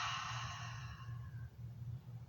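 A long, soft ujjayi yoga exhale with a hushed, airy rasp at the start that fades over about a second, close and quiet, with low steady room hum underneath.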